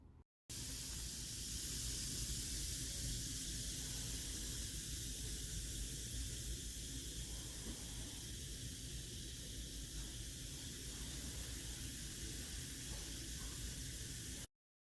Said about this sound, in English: Like most vinegar and baking soda experiments, when you put the two together, things begin to bubble.